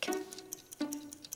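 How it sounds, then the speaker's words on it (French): A mechanical kitchen timer ticks softly and close by, a quick irregular run of light clicks with two brief resonant ringing taps inside the wind-up mechanism. "C'est le mécanisme à l'intérieur de la minuterie qui tourne. Et chaque fois qu'il tourne, il fait tic-tac"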